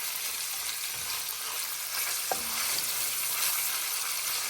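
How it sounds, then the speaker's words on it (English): Strips of bacon fry steadily in a hot pan, a dense continuous sizzle and crackle with no pauses, joined briefly by a single soft clink of a utensil partway through. "And we'll throw the bacon in there and let it start cooking."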